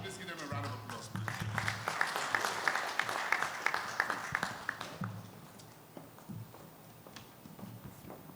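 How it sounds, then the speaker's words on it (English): Audience applause at a corporate welfare and productivity event swells for about five seconds of dense clapping, then thins to scattered claps and fades out. "Please give them a round of applause, please."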